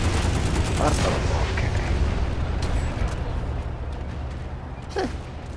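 Explosions and gunfire in the video game Planetside 2: a thick, rumbling barrage of booms and rapid shots with a low roar underneath, plus a sharp blast near the end.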